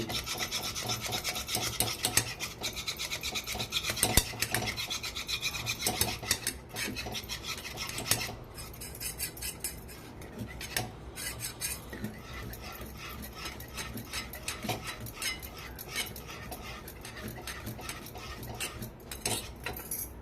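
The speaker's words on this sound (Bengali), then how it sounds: "খুব ভালো করে আমি ফেটিয়ে নিচ্ছি" Semolina dhokla batter is whisked hard in a bowl, a close continuous rasping scrape of utensil against bowl running in fast, busy strokes throughout, with brief pauses and scattered clinks.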